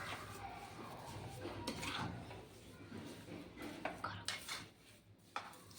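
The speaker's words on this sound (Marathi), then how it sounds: "आणि हलवून घ्यायचं." Carrot halwa with sugar is stirred in a pan, giving muffled scraping and a few light knocks against the pan, quiet and close.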